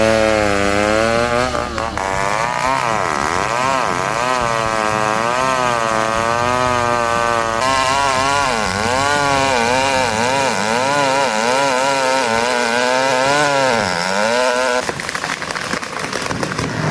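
A STIHL chainsaw fells a giant tree, its engine wailing steadily up and down in pitch as the cut goes on. It is loud and near for the whole stretch, with a break in the engine note partway through.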